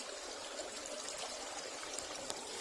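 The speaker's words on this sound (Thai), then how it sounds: "เป็นน้ำไหลลงมาจากท่อใหญ่ๆแบบนั้นเลย" Water pouring down from a large pipe at a hot spring by a forest stream, a steady broadband rushing flow heard up close and continuous, with no voices.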